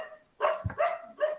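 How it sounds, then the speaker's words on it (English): Several dogs bark, giving a few short, mid-distance woofs in quick succession with no talking. "so many dogs here."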